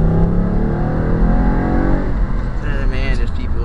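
1996 Chrysler Sebring fitted with an aftermarket air intake, its engine revving and pulling away with a rising whine, loud and close, while someone talks over it.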